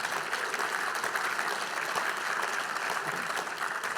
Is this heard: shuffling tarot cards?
no